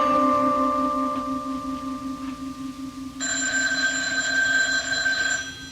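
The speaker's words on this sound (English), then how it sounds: "The phone, it's ringing." An old-style telephone bell rings in a late-night radio drama scene, a steady insistent ring that shifts pitch partway through, heard alone and fairly loud.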